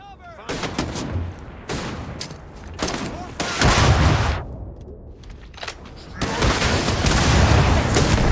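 Gunfire crackles through a shootout in the sci-fi video game Starfield, with repeated bursts and heavy booming shots that come and go in loud waves across the scene, and voices from the game occasionally heard amid the firing.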